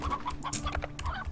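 Quick, short clucks from a wild hen in a video game, a brief burst of several clipped notes heard at low volume against game background sound.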